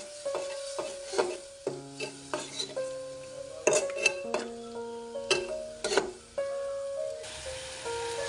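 Chilli, turmeric, spices and salt being sautéed with splashes of water in a pan, heard as a close, steady run of stirring scrapes and clinks of a utensil against the metal with a soft sizzle beneath.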